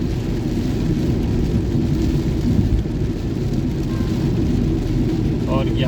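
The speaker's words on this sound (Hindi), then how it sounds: "अब देखिए कितनी ज़ोर की बारिश हो रही है" Heavy rain pours down steadily and loudly during a car trip to Bhimtal, a dense continuous roar with no clear thunderclap standing out.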